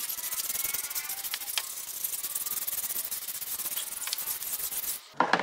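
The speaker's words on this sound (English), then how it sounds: "grab a Vicam brush and we'll give them a good scrub" Stiff brush scrubbing car tyres coated in pre-wash, a close, rapid rasping back-and-forth scrub that continues steadily and then stops briefly near the end.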